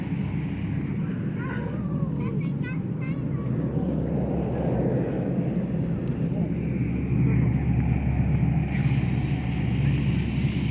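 Ship engines on a luxury vessel sailing in northern Europe give a steady low rumble and wash throughout, louder toward the end, with brief voices talking faintly over it.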